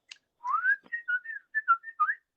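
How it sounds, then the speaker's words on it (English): A man whistles the signature call he uses to summon his cat at feeding time, a quick run of short, bright, clear notes, one rising slur followed by several brief chirps, close and alone. "So I've got a specific whistle that I do every time I feed the cat."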